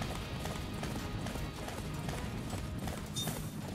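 Horse hooves gallop in the Attack on Titan video game, a fast, even, continuous clip-clop of hoofbeats at moderate loudness.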